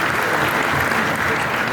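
Loud, dense applause from an audience at a stage event celebrating a business milestone, steady clapping filling the whole moment, with some voices mixed in.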